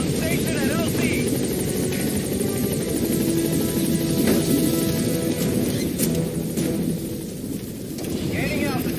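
In the Metal Gear Solid V video game, the P-Quad support helicopter comes in to a landing zone, its rotor a steady, close thrum under radio-style voices that talk throughout.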